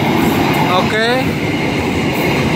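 A conventional train rumbles steadily past at Padalarang, beside the Jakarta-Bandung high-speed rail works, loud and close throughout, with a brief spoken word over it.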